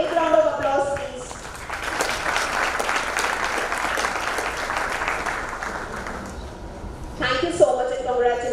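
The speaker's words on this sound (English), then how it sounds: "A big round of applause, please." An audience claps at a Rotary club installation and award ceremony, with sustained applause of moderate loudness; a voice speaks briefly at the start and again near the end.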